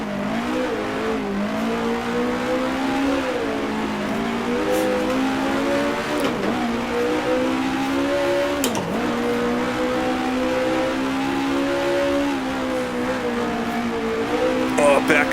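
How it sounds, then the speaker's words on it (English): A vintage 1966 Tasman Series race car engine in Grand Prix Legends howls continuously, rising and falling through repeated revs and gear changes, loud and close, with a commentator talking over it. "throw the car sideways, understeering a little bit on the exit"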